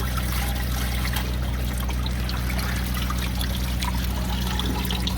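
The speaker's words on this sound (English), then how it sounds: "You can see underneath how much water is flowing back, that it's wringing right out of it." Water drains out from under a wringer washer as clothes are wrung through it on a homestead: a steady close trickle and splash over a constant low motor hum, with no talking.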